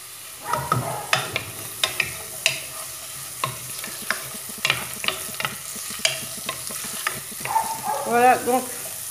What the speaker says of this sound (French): dans une petite marmite, j'ai mis un peu d'huile neutre. Je vais mettre l'oignon.